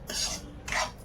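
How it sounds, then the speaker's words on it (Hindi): Halwa being roasted and stirred in a pan: two brief scraping strokes of a spoon against the metal, close and distinct, with a short pause between. "मैं बना रही हूँ हलवा, इसको भून के रख लेती हूँ"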